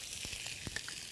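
Garlic hitting hot oil in a pan gives a brief, close, hissing sizzle with a few crackling pops, heard alone without talk.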